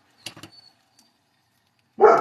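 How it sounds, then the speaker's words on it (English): Household dogs bark during a home sewing session: two quick close barks with a couple of softer yaps, a long quiet pause, then another loud bark at the end. "sorry about the dogs."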